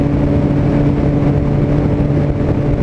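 Yamaha motorcycles, an FZ6 Fazer 600 and an MT-09, pull hard on an Istanbul road, their engines droning loud and near with a steady humming whine and rushing wind.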